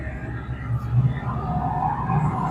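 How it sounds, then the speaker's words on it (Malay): A Nissan Navara D40 pickup with a suspected fuel pump fault and low power around 2,000 rpm runs through a road test, its engine and road noise droning steadily from inside the cab. "Oke, kita akan tes kereta ini."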